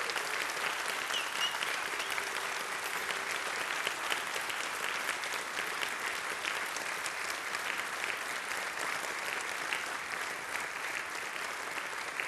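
Large audience at the Rahvalõõts 2016 accordion music final applauding steadily and loudly, a dense unbroken wash of clapping holding at even strength from start to finish with no voices standing out.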